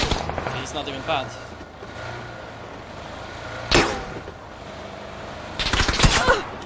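Gunfire in a ranked solo sniper match of a video game: a few sharp, loud shots spaced seconds apart, including a closer cracking burst near the end, over a low ambient game rumble.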